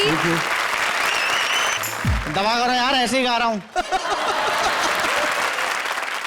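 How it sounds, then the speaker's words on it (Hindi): Studio audience applause on a comedy show, a steady bed of clapping under a voice, which breaks into a short sung, wavering phrase midway before the clapping carries on alone. "जोरदार तालियां वीआईपी और फ्रेंड्स के लिए"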